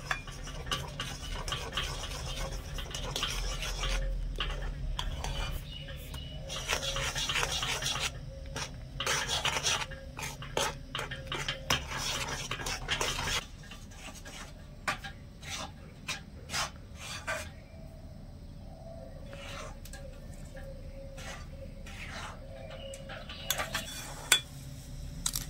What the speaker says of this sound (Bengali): এই চাল আর বাদামের গুঁড়োটা অল্প অল্প করে দিয়ে মেশাতে থাকবো